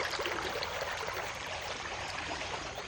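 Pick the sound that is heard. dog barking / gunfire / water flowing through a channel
water flowing through a channel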